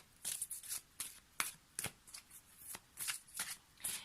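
Oracle cards from the Murmure de Ganesh deck are shuffled by hand for a card reading, giving a quick series of crisp riffling bursts in an uneven rhythm, close and fairly quiet.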